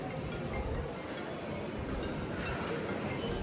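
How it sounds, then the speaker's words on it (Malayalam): A train arrives at a station with a steady low rumble of wheels and carriages, fairly distant and constant, with a soft squeal of wheels partway through. "കുറച്ച് നേരം അവിടെ ഇരുന്ന് കഴിഞ്ഞപ്പോൾ ട്രെയിൻ വന്നു"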